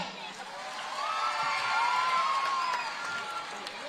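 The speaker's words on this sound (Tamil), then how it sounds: "எல்லாரும் கை தட்டலாமே" A large crowd at a women's rally in Bhuvanagiri claps and cheers, a broad wash of applause swelling in the middle with whoops and a loudspeaker voice ringing over it.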